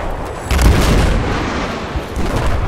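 A flashbang grenade goes off in the video game Battlefield 4, a loud deep boom with a rumbling low-end tail that swells again briefly before fading.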